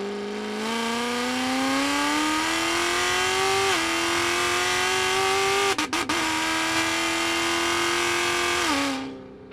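A car accelerates down the Hunaudières straight, its engine tone climbing steadily and loudly through one long gear pull, shifting, then pulling again before cutting off, close and without talk.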